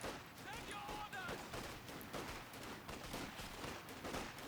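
Rifle squad gunfire in a World War II real-time strategy battle, with rear echelon troops firing on Volksgrenadiers from the flank. Dense, continuous crackling volleys run throughout at steady loudness, with a commentator's voice faintly mixed underneath.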